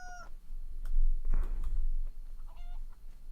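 Chicken clucking in the DayZ survival game, short high clucks at the start and again near the end around a louder low rumble and shuffling, close by.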